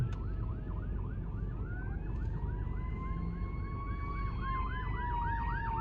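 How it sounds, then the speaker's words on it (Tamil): A fire truck siren wails and then switches to rapid yelping warbles as it passes along a snowy street in Halifax, moderately distant above a constant low rumble of traffic. "இந்த சைடும் வருது ஃபயர் ட்ரக்"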